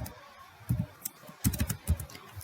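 Keys on a computer keyboard are tapped in short clusters to enter numbers, a few sharp clicks near the microphone spaced by brief pauses.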